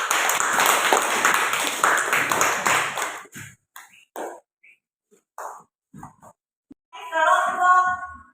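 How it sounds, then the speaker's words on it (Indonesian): A classroom group claps together in dense, loud applause for about three seconds, then scattered small knocks and movement follow before a voice speaks near the end. "ayo kita sama-sama berikan aplaus dulu untuk kita semua"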